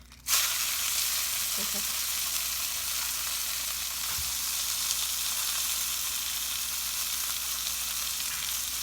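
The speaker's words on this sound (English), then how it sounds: "you're just crisping the edges" Pot roast searing in a hot pan with its edges crisping, a loud, continuous close sizzle that holds steady for several seconds after a sudden start.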